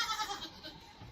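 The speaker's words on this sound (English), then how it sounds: "It's still a baby goat." A baby goat on a small farm bleats in a few quick, wavering calls, close by and fairly quiet, with no talk over it.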